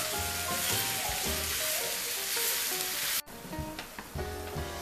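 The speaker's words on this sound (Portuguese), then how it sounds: "nosso bacalhau já está refogado junto à cebola" Salt cod sautéing with onion in a pan for a Christmas rice dish, a close, continuous sizzle with occasional stirring clicks, briefly cutting off and resuming.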